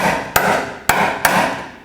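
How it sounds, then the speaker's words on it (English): Three sharp hammer blows spaced about half a second apart drive a bushing into an Acura TL front lower control arm, close and metallic, with a faint background hum between strikes. "I'm just going to hammer this bushing into place."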